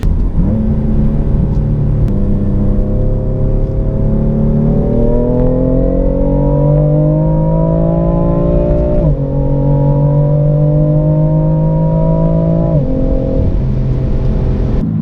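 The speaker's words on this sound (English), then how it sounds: "Downshifts are epic. The car really sounds amazing." A BMW M4 LCI Competition Package engine with a performance exhaust roars loudly, revving up through rising pitches with several abrupt drops as it downshifts, sustained and close.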